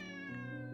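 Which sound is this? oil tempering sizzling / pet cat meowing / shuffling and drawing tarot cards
pet cat meowing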